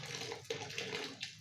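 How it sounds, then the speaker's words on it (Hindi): Caustic solution being poured into an acid solution while making dish wash liquid, a continuous splashing, gurgling liquid pour with a few louder surges, close by. "तो हम इस कास्टिक सॉल्यूशन को इसी एसिड सॉल्यूशन में डालेंगे हम।"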